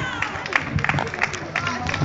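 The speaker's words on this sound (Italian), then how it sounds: "Applauso alla Valletta." Scattered applause at a football tournament award ceremony, uneven clapping from a small crowd mixed with murmuring voices and brief calls, fairly close and short.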